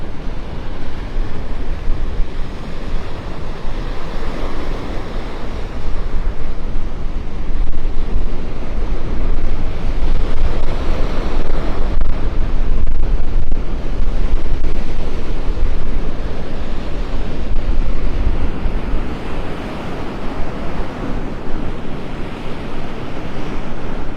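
Strong wind buffets the microphone on a morning beach walk at Delnor-Wiggins in North Naples, a loud continuous roar of gusts mixed with the wash of surf, steady throughout.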